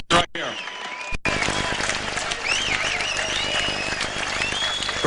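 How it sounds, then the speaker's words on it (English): Arena crowd applauds two veteran boxers, Virgil Hill and Donny Lalonde, after their bout, a steady wash of clapping and cheering after a brief opening burst of voice. "another round of applause for these two veteran fighters"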